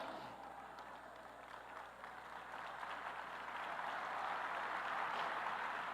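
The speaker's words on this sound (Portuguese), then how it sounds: "Dá um aplauso ao Senhor aí!" Congregation applause for the Lord at a church congress, a broad wash of many hands clapping that is fairly distant and steady, growing slightly louder toward the end.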